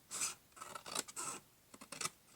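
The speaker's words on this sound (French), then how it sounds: "Donc on coupe avec les ciseaux." Several close snips of scissors slicing through paper, in uneven bursts with short pauses between cuts.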